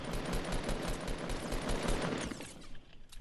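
Rapid automatic gunfire in a Fortnite Battle Royale match, dense bursts of shots rattling continuously and loud before tapering off near the end, with no talk over it.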